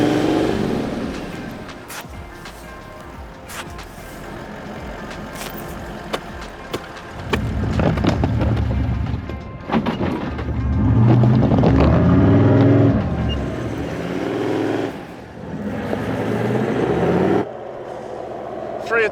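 Toyota 79 series four-wheel drive engine revving hard while stuck in soft beach sand, a loud sustained drone rising and falling over several surges, strongest in the middle, with brief speech early on.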